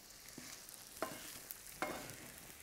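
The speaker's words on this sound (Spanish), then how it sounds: "ponemos adentro de la sartén la pechuga de pollo. Hacemos cocinar así a fuego vivo," Chicken breast frying in a pan over high heat, a faint, steady sizzle with a few soft stirring scrapes spaced about a second apart, no voices.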